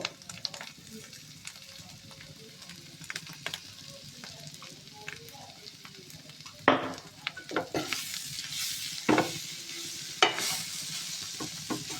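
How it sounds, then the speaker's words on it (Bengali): A potato filling with turmeric and salt is mashed and stirred in a pan, giving soft scraping and stirring noises. Several louder scraping bursts come in the second half, close up, with no one talking. "সেটা ভালো করে ম্যাশ করে নিতে হবে"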